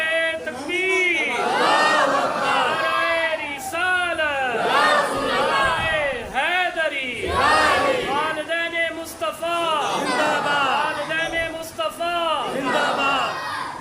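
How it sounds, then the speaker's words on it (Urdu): A large crowd at a religious gathering chants a slogan in loud unison, with repeated rising shouts that come in waves and echo through the hall. "بڑا پیارا نعرہ لگایا والدین مصطفیٰ"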